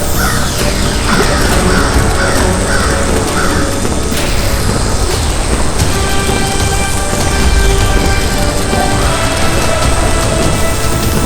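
A crow caws several times in quick succession in a fantasy TV drama, the harsh calls standing out early on before fading into a loud, dense bed of rumbling effects and music.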